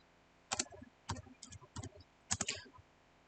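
Keys on a computer keyboard typing a Git command, several short bursts of crisp clicks in quick clusters separated by brief pauses, close and fairly quiet.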